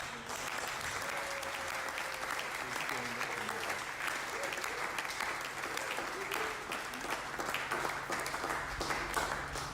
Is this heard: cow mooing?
no